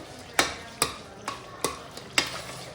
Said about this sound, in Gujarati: ચટણી નાખીને થોડુંક હલાવી નાખવાનું એટલે મિક્સ થઈ જાય આમાં.